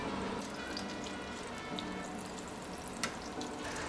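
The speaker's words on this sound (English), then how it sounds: "The sear, you get the sizzling, you know it's up to temperature." Hot oil sizzles steadily in a pan while a chicken stir fry sears, a continuous close hiss with a few faint clinks and pops.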